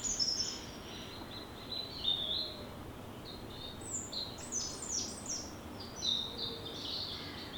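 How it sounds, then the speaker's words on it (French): Birds sing and chirp in a forest, scattered high-pitched calls and short twittering phrases at moderate distance over a soft, steady outdoor background. "c'est le royaume des oiseaux."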